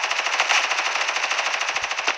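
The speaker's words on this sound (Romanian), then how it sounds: "Poate asta e o mitralieră." A machine gun fires a long rapid burst in the mobile shooter game Standoff 2, sharp evenly spaced shots in quick succession, loud and close, with no talking.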